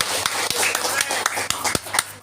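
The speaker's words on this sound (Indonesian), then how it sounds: "Tepuk tangan atuh." An audience at a religious dhikr gathering claps in a loose, uneven rhythm of sharp individual claps over a murmur of background voices.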